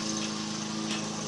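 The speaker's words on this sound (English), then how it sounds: "If you can't hear the mower in the back, she's mowing the yard" A lawn mower running steadily in the background of a yard, a continuous droning engine hum with a slight surge near the end and no voices.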